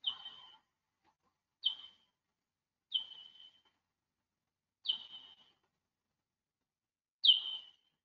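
A time-expanded bat echolocation call recorded in the Upper Delaware River Valley sounds as five separate, bird-like downward chirps spaced irregularly over about eight seconds, each short and clear against silence.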